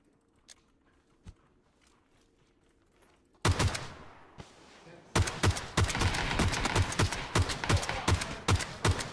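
Gunfire in PUBG Battlegrounds: after a quiet stretch with a few isolated shots, loud bursts of rapid automatic fire break out, then settle into a steady, dense stream of shots.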